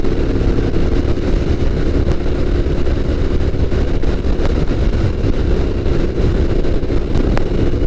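Pontiac GTO engine running with a steady, loud, rough rumble that holds an even level throughout, with no talking.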